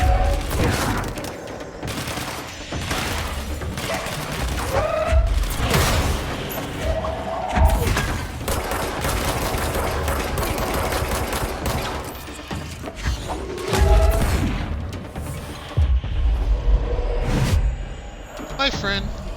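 Gunfire in the video game Control, rapid bursts of shots and booming impacts layered with game music and effects, continuous and fairly loud throughout, with someone talking over the action.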